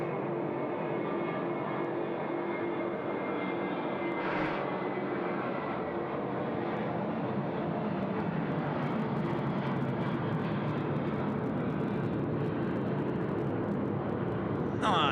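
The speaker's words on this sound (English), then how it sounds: "And Jetstar A380 away." Airliner engine roar carries steadily across Sydney Airport as an Airbus A380 takes its take-off run and climbs away, heard from a distance at moderate level, with occasional voices.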